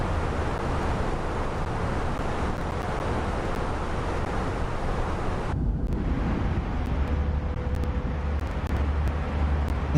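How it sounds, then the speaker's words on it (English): Steady wind noise roars inside the rear cabin of a Fenix A319 airliner at cruise in MSFS 2024, a loud continuous rush that abruptly thins partway through, leaving a lower drone with a faint hum. "Man, so much wind noise back here."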